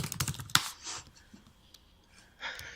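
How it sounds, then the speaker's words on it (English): A quick flurry of hard, forceful keyboard clacks up close, then a quieter stretch with scattered clicks and a soft breath. "This is such aggressive typing"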